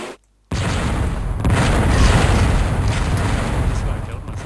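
Weapon fire explodes near a grate in the Descent video game: after a brief silent gap, a loud, sustained booming roar rumbles on without letting up for several seconds.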